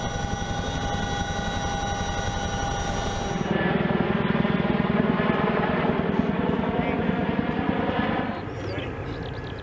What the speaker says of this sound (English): the helicopter hovers steadily above the drop zone